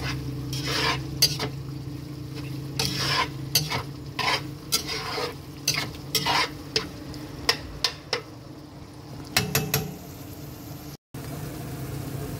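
Tomatoes cooking in a pan for Filipino sarciado: a soft, steady sizzle under repeated close clacks and scrapes of stirring, loud and irregular, with a brief gap near the end.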